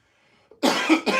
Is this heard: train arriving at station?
no